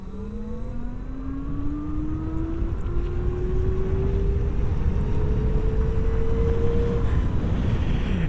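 An Oben Rorr EZ electric motorcycle pulls away at full throttle, its motor whine rising steadily in pitch over several seconds beneath heavy wind rush, with no one speaking.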